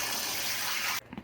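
Tap water gushes steadily into a bowl to rinse and soften salted sausage casings, then cuts off abruptly, leaving a few soft knocks.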